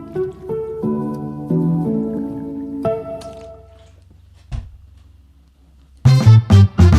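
Quick gulping and squishing bursts of someone chugging a bottle of water, a few close wet swallows near the end after a stretch of quieter tonal background.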